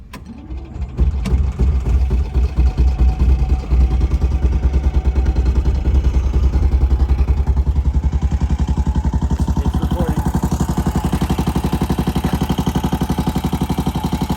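A 1959 BMW Isetta 300 single-cylinder engine cold-starting: a brief cranking, then it catches and settles into a loud, close, rapid putt-putt idle that runs steadily to the end.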